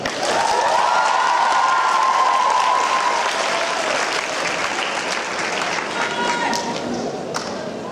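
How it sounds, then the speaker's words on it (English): Audience applause for an original musical performance at a Founder's Day event: loud, sustained clapping filling the room, with a few cheers and a lingering tone over the first seconds, easing slightly toward the end. "Please give a warm round of applause."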